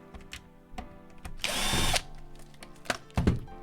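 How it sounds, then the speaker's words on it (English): Power screwdriver backing screws out of a Nintendo Wii console: short whirring bursts of the motor with one longer loud spin, plus clicks and clatter of plastic and handling between runs, close up. "Oh, screws getting stuck to the tip."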